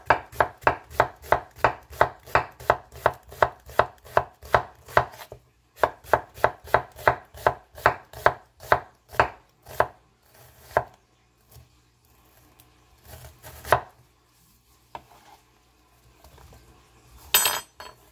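An onion being cut into julienne strips with a knife on a board, a fast, even run of sharp close chops that pauses briefly, resumes, then trails off into sparse taps and a final clatter.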